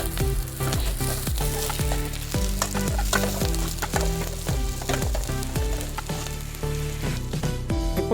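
Curry leaves crackle and sizzle in hot oil alongside beans for jeera rice, a steady loud frying hiss with rhythmic stirring scrapes throughout, no voices.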